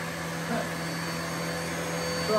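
A vacuum cleaner runs steadily on its medium setting while being pushed across carpet, a constant whirring motor hum with a faint pitch shift as it moves.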